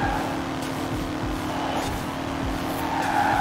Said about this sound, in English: now I will just go straight and I will do proper braking